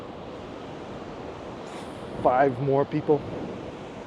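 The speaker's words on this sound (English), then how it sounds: "So hopefully the wind isn't too bad." Steady wind rushes on a beach walk at Matinhos, Pontal do Paraná, Brazil, a broad continuous roar buffeting the microphone and blending with distant surf, while a person speaks briefly over it near the end.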